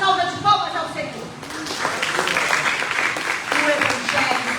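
Congregation in a church service applauding, a dense wash of many hands clapping that swells after the first second and carries on steadily, with a voice audible at the start.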